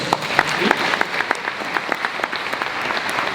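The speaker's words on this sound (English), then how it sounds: "Give the man a round of applause." An audience at a 2019 IAHA conference panel applauds a speaker, a dense steady patter of many hands clapping at close range, sustained evenly through the whole stretch.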